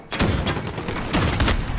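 Rapid bursts of gunfire from a Call of Duty match crackle in two quick clusters, loud and close, with no talk over them.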